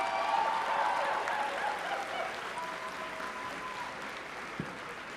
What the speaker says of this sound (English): Let's have one big round of applause again for the graduates of